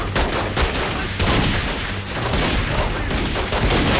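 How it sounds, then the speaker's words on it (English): Explosions and combat racket in The Godfather II video game come through as a loud, continuous roar of blasts and rapid gunfire, dense and steady for the whole stretch. "And I got hit by an explosion."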